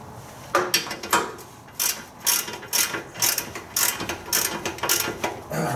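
Ratchet wrench clicking in repeated bursts while tightening tie rod end nuts on a Ford van, close and loud, with pauses between strokes.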